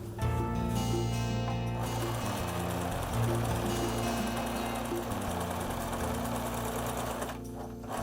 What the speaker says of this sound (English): I stitch the seam allowance back again.